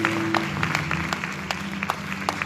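A church congregation claps in a steady scattered rhythm at the close of a sermon event, moderately loud over a sustained musical background.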